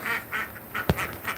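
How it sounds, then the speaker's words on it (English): Several ducks quack in a loose series of short, nasal calls, one louder and closer burst standing out near the middle, heard at a farm agroforestry site with no talk over them. "and of course, yes, we have ducks."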